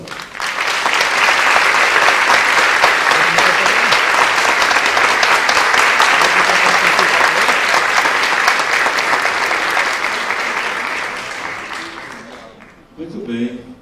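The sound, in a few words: applause for the couple Marques and Conceição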